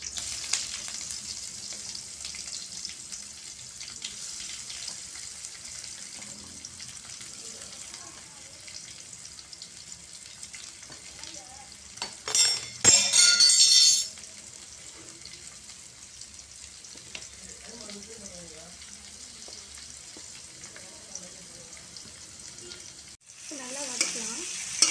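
Chopped onions sauté in hot oil in a pan with a green chili, giving a soft, continuous sizzle with a brief burst of louder frying and stirring midway.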